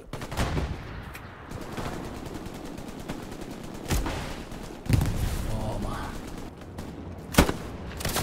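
Gunfire in the World War II shooter Hell Let Loose cracks out in scattered sharp shots and bursts over a rumbling battlefield background, with a brief spoken word and light voices in between.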